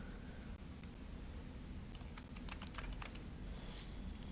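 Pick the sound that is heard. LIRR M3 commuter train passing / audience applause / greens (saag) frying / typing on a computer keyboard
typing on a computer keyboard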